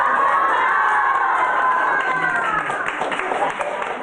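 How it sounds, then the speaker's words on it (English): A crowd claps and cheers at a surprise military homecoming for a Navy father, with excited children's shouts rising over a loud, continuous burst of applause. "Surrounded by the sound of applause, Olivia received a warm embrace from the dad she wasn't expecting to see."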